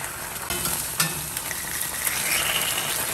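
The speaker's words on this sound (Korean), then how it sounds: "한쪽에서 두부를 지져내면" Tofu sizzles in a pan while being pan-fried for braised tofu, a bright continuous crackle with occasional louder spits and stirring noises, with no one talking.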